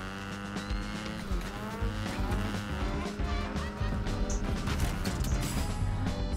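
Vehicle driving in Fortnite, engine drone with tire squeal and skidding textures running steadily under game effects, fairly quiet overall.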